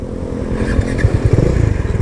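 A motorcycle at close range, its engine running with a steady low rumble that turns into throbbing pulses as it pulls away at the start of a ride.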